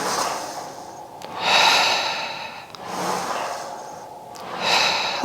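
Breathy exhales during a Pilates reformer exercise, three rushing bursts in a steady rhythm about every one and a half seconds, close and moderately loud over a soft hiss.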